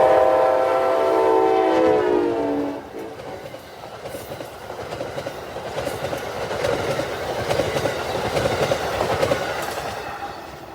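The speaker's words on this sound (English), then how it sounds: "My first catch of 2026 on January 1st was Amtrak" Amtrak passenger train led by an ALC-42 locomotive passes at Dumfries, Virginia, opening with a loud sustained horn blast, then a steady rumble and clatter of cars rolling by close at hand for the rest of the stretch.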